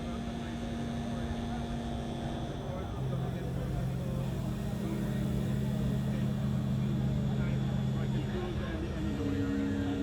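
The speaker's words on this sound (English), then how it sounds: "So I have this preset of 5 LFOs playing my drone." A Polyend Medusa synthesizer plays a sustained drone modulated by five LFOs at the Superbooth 2019 trade fair: layered steady tones shift in pitch and texture, with people talking nearby.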